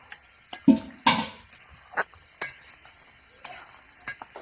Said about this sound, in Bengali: এখন আমি গরম মশলাটা দিয়ে একটু নাড়িয়ে নেব